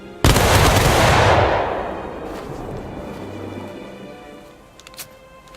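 A squad of rifles fires in one loud close volley on command, a sharp blast followed by a long rolling echo that fades over a few seconds.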